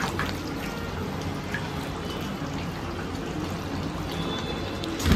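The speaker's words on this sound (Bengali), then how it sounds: "একটু কাঁচা তেল দিই, সরষে ভালো লাগে" Raw mustard oil poured into a pot of simmering Bengali fish curry with potatoes, a steady soft liquid trickle and bubbling wash running close and continuous with no talk.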